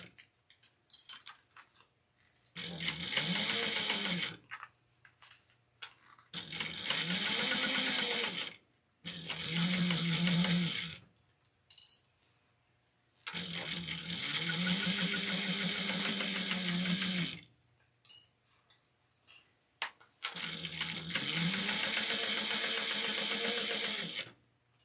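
A sewing machine stitches a seam for a clutch bag in five long bursts, whirring steadily and closely, with brief pauses between runs for back stitching and turning.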